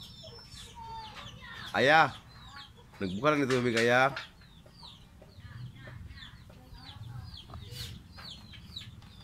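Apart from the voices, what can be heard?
chickens clucking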